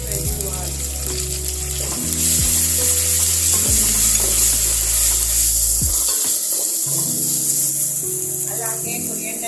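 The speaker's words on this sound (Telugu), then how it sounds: "ఫ్రై చేసుకున్న తర్వాత ఇందులో జింజర్ గార్లిక్ పేస్ట్ వేసుకోవాలి." Ginger garlic paste sizzling and frying in a hot pan for moong dal khichdi, a steady loud sizzle throughout with occasional stirring scrapes and clinks close by.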